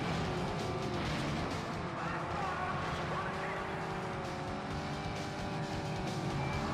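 Race cars roaring through a destruction derby circuit in the video game Test Drive Spin, a dense, steady engine drone at constant loudness with no pauses from start to finish.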